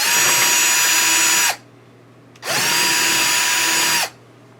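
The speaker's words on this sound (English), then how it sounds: "I'll drill these holes out" Power drill with an 11/64 bit boring holes in wood for a Piper Supercub water rudder retract guide, two loud steady whining bursts of about a second and a half each with a brief pause between them.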